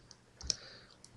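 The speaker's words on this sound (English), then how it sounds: "I'm going to this time hit the U key" Single light click of a computer keyboard key press, near and quiet, with a couple of faint ticks around it.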